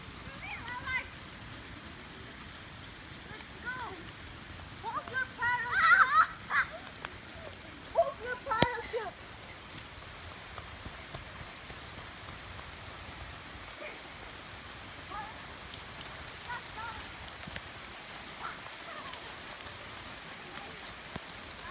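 Rain falls outdoors as a soft, steady patter, with voices and brief bursts of activity partway through.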